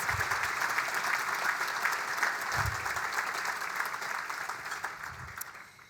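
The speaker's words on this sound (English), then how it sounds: "we could give them a round of applause" Steady applause from an audience at a charity impact breakfast in Boston, dense clapping sustained for the full stretch at an even level, with no voices over it.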